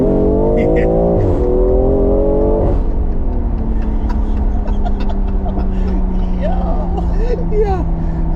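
BMW M340i under hard acceleration from inside the cabin, a loud engine drone climbing in pitch, a brief drop at a gear change, then pulling steadily again, with people talking over it.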